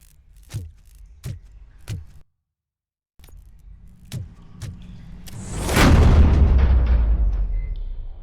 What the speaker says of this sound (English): having a grenade drop right beside you